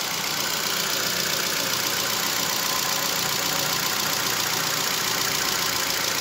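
A Ford EcoSport engine runs at a steady idle after a general overhaul, a constant close mechanical hum and rattle with no talking.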